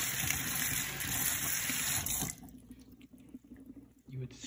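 Tap water runs loudly for about two seconds while a Brita pitcher is refilled, then cuts off, leaving quieter handling sounds and a brief later gush.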